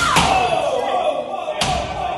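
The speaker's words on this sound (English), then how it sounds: "So right now they're smashing up against doors." Bodies smashing against doors during a violent protest attack on a Charlie Kirk event, giving two sharp, loud slams about a second and a half apart over constant crowd noise and voices.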